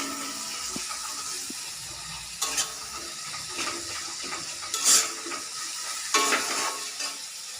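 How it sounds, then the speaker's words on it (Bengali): Onion and chili frying together in a pan, a soft continuous sizzle with intermittent scraping stirs and a few louder clattering bursts from the utensil, close by with no talking. "এই দেখুন ভাজা ভাজা চলছে"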